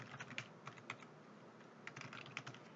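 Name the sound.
typing on a computer keyboard, pressing Enter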